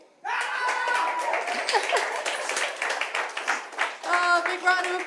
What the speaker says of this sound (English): big round of applause for Nicola